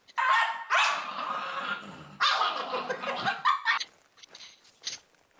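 A dog barks in a hunting video game, giving a few loud, close, drawn-out barks and yips followed by fainter, shorter sounds.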